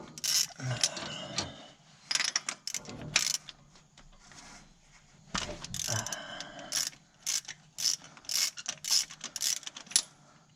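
A socket ratchet works the spark plugs loose on a 1957 Chevy, with rapid bursts of clicking pawl ticks separated by pauses and rustling handling, close and fairly quiet.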